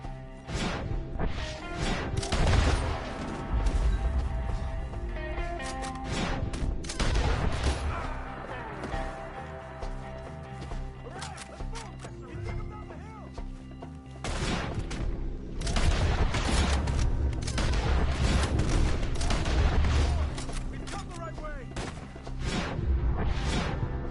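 Heavy gunfire in Red Dead Redemption 2 during a shootout, with dense, continuous volleys of shots and crashing impacts that surge and ease in waves, loud and close throughout.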